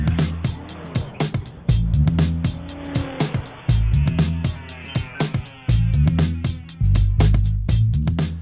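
2014 Chevrolet Cruze turbo diesel car on the road, with engine drone and repeated loud rushes and thumps in choppy, cut-together bursts, fairly close, with no talk.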